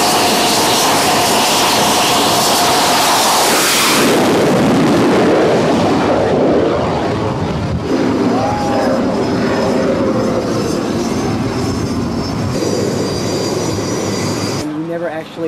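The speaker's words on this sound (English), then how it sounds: "Actually think you're going to be that close to the planes taking off and landing." Loud roar of jet aircraft engines as planes launch close by, broadband and sustained for the first few seconds, then continuing as a lower rumble and whine with people talking and exclaiming over it.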